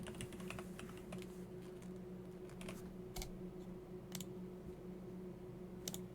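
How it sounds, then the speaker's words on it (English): Rapid keystrokes clatter on a computer keyboard in quick irregular bursts with a few louder clicks, faint and close over a steady low hum, with no talking. "I gotta type on my keyboard here"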